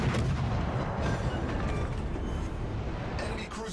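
Warship guns fire in a World of Warships Legends naval battle, with heavy booming blasts rolling into one dense, loud wash of rumble that fades slightly toward the end.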